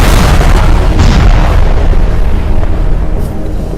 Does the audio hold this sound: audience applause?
no